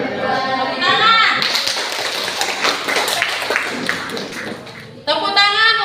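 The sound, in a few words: class clapping hands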